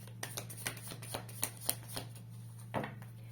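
Tarot cards are shuffled by hand in quiet, soft bursts of riffling and tapping, with a brief pause before a last shuffle.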